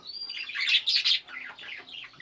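Parakeets kept as breeding pairs chirp and twitter in a quick, close, high-pitched run of bright notes, with no voices.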